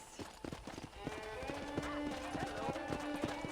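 Horse hooves clip-clop in a steady trotting rhythm in Red Dead Redemption, with a faint whinny and a sustained tonal hum underneath.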